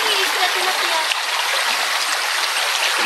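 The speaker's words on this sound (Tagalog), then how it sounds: "Yan, galing yan sa ilalim ng lupa, yung tubig na yan." Spring water welling up from under the ground in Surigao del Norte, a steady close rushing and gurgling flow with light splashing, continuous throughout while voices talk faintly over it.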